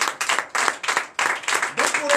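A church congregation claps in short rhythmic bursts of applause, about eight quick rounds of hand clapping at close range in a worship hall.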